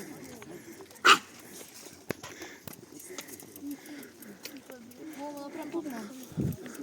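A single short dog bark, reacting to a squirrel, rings out amid outdoor background noise near a market and forest in Skhidnytsia, with people talking nearby and faint bird sounds.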